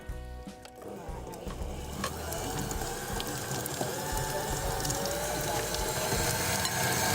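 An electric mixer creams butter with flour, whirring with a rattling mechanical churn that builds after a few clicks and short bumps at the start, steady and moderately loud.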